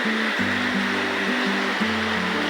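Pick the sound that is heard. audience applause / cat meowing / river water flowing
river water flowing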